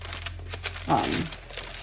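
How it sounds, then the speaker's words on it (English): Parchment paper crinkles briefly and softly at close range, a short rustle over a quiet background. "Sorry for the noise of the parchment paper."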